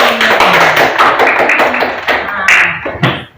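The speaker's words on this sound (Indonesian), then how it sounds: "Tepuk tangan untuk kelompok beringin." Classroom applause for a student discussion group, rhythmic group clapping up close with faint voices mixed in, ending abruptly.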